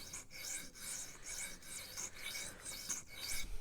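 A Rough Ryder Half Hawk knife blade is drawn back and forth across a sharpening stone in a 3D-printed angle guide, making about eight close, rhythmic gritty rasping strokes with no talk.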